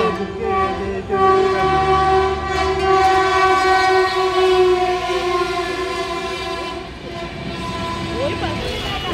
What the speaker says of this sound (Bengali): 4 নম্বর প্ল্যাটফর্ম দিয়ে থ্রু ট্রেন যাবে